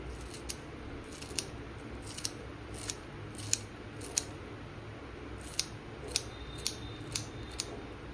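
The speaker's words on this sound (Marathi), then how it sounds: "कोथिंबीर आपण बारीक करून घेऊ" Coriander is finely chopped with scissors, producing a series of quiet, crisp snips at an uneven rhythm, about a dozen cuts over low background noise.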